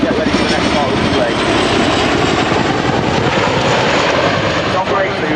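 An RAF Chinook HC4 twin-rotor helicopter roars loudly and continuously during a flying display at Dunsfold Wings & Wheels 2015, its dense engine and rotor noise steady throughout.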